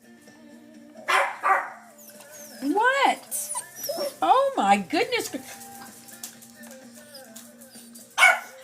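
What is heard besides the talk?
dogs barking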